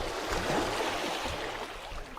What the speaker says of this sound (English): I can already hear the sea waves.